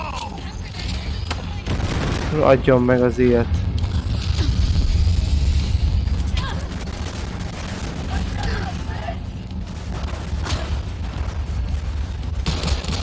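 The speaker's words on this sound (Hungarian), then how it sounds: "Igen, itt már lövöldözés van," Shootout gunfire in the Cyberpunk 2077 video game, a dense fusillade of game weapon shots and booms running under a loud, continuous player voice talking over the action.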